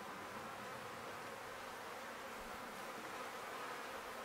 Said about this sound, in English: Bees all the way across.